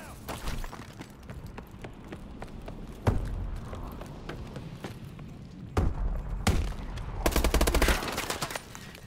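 Gunfire in an online team deathmatch of Call of Duty: Advanced Warfare on Xbox One, with continuous chattering automatic fire and several louder bursts over a dense background of battle noise, loud and close.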